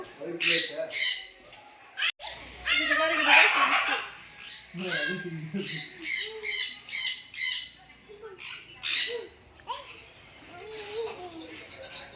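Birds squawk loudly and repeatedly at close range in harsh bursts at a sky park in Yercaud, one perched on a hand, with people talking over and between the calls.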